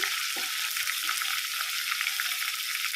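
Curry leaves and asafoetida fry in hot oil, producing a steady, bright, hissing sizzle throughout, close and without any voices.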